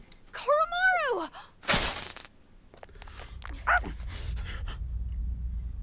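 Koromaru, a dog in the video game Persona 3 Reloaded, lets out a rising whining howl followed by short barks and yelps, mixed with game sound effects and a brief voice.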